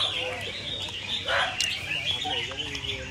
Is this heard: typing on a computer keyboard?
no